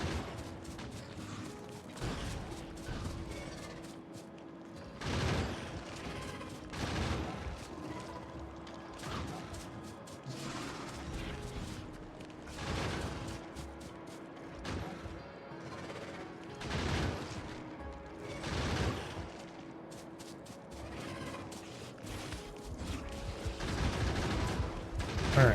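Automated gun turrets in Factorio firing at enemies, with repeated bursts of rapid gunfire over a steady mechanical factory hum, fairly quiet and continuous.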